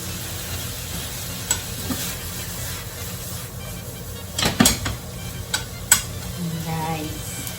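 Squid sautéing in a hot pan for a seafood noodle dish, a steady low sizzle with occasional stirring scrapes and utensil clacks against the pan, close and continuous.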